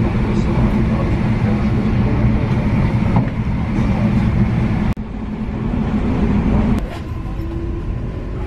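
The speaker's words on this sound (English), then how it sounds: "we're on the train." Steady low rumble of a crowded passenger train rolling toward Venice, continuous and loud with a brief dip midway, with people talking over it.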